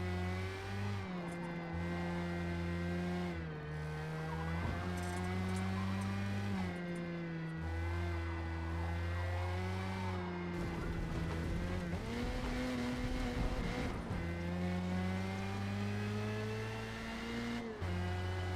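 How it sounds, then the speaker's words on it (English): In a racing video game, a race car brakes early and slides wide. A steady engine drone rises and falls, and tire squeal and skidding run through it continuously with no talk. "Hit the brakes a little early there, causing me to slide out wide"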